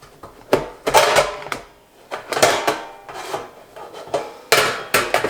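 Plastic lids snap onto a freeze dryer egg tray in a series of sharp clicks and rattling knocks, grouped into several bursts with short pauses between them, close by and with no talk.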